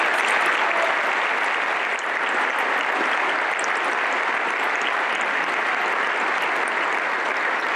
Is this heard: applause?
yes